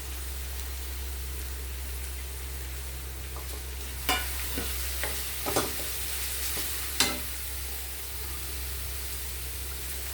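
Indian gooseberries and onion fry in a pan for gooseberry rice, giving a continuous soft sizzle over a low hum, broken by a few sharp scraping stirs in the middle.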